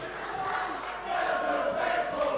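A Lucha Libre wrestling crowd at the Pro Wrestling World Cup, El Ligero vs Grado, roars in reaction to a mask being taken, swelling louder about a second in and holding.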